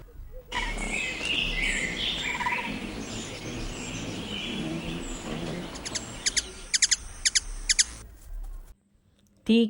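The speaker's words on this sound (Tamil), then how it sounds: "தேன்சிட்டு" A sunbird calls with thin, high chirps and twitters over outdoor background noise, ending in a quick burst of sharp clicking notes.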